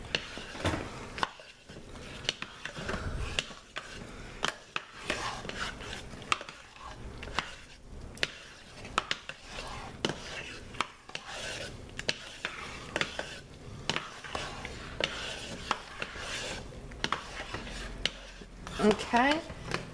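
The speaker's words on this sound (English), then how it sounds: "Will you start stirring this one for me?" Peppermint soap mixture with pink Himalayan salt is stirred in a container, giving irregular scraping and clinking strokes with soft wet squishes, close and moderately quiet.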